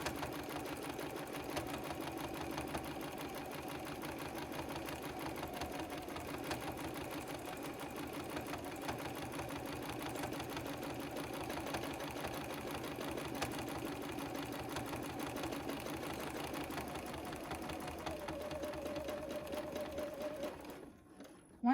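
Sewing machine stitching steadily while free-motion quilting batik fabric, the needle pounding through the layers in a fast, continuous rhythm, loud and close with no talk, stopping abruptly near the end.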